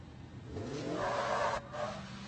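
A Polaris Pro R race vehicle launches off the Baja 500 start line, its engine noise swelling and holding loud and close for about a second before a brief dip and a second surge.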